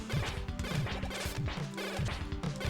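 Mega Man 7's Noise Crush weapon fires over and over in the game, a rapid run of punchy crunching hits about half a second apart, loud and sustained over busy game sound.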